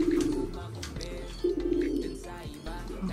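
Pigeons being fed give a few soft, close coos and murmurs over a short span, with faint background noise.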